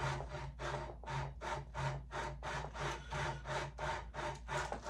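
Sandpaper of 100 grit scrubs back and forth over a crown in steady rhythmic strokes, about two per second, close and fairly soft, with no talking.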